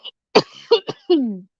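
A person coughs near a microphone: a short breath, then three quick harsh coughs and a longer throaty one, close and fairly loud with nothing else around.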